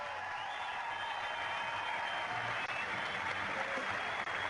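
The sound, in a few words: Ostrava stadium crowd applauding Czech sprinter Jan Veleba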